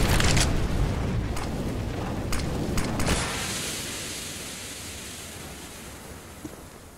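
A smoke grenade goes off in Counter-Strike with a loud hissing burst, a few sharp pops over a steady rushing noise that fades slowly over several seconds.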